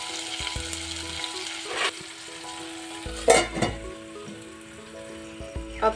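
Tomatoes frying in a kadhai for chana dal fry, giving a continuous close sizzle with a few louder bursts as the pan contents are stirred.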